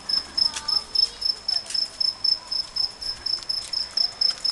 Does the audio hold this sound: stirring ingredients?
no